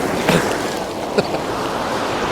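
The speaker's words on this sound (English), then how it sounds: "get a shot as the waves crash and blast up against the wall" Ocean waves crash and surge against a seafront wall in stormy weather, a loud constant roar of surf and wind with a couple of sharper impacts close by.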